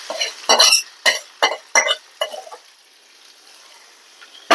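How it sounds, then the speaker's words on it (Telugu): Fried prawns and dried fish being stirred and tossed in a pan, a series of about six sharp scraping, rustling strokes close up, then a quiet pause before one more stroke. "చూడండి ఇలా రొయ్యలు, అది చేపలు, ఎండు చేపలు వేయించి ఇట్లా కలిపేస్తే"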